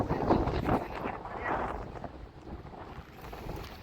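Strong mountain wind near Marpha, Nepal buffets the microphone in steady gusts, with a muffled voice barely audible underneath.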